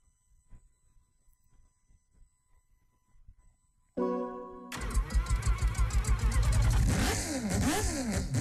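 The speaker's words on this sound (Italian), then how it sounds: "se si sente il motore rotativo." In Gran Turismo 6, after a few quiet seconds, a rotary-engined car starts and revs loudly, its buzzy, high-pitched note rising and falling repeatedly.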